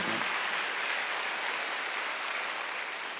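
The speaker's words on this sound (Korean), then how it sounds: "박수." Congregation clapping during a sermon at a Korean church, a steady, dense patter of many hands that holds evenly for about three seconds and then stops abruptly.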